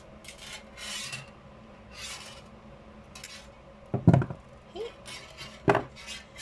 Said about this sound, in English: Sorry, I didn't cut off my wire, so it's gonna be smacking.